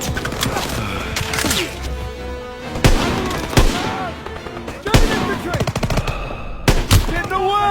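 Call of Duty WWII battle in the Hürtgen Forest: loud, dense gunfire with rapid machine-gun bursts and sharp rifle shots in overlapping volleys, while soldiers shout under the shooting.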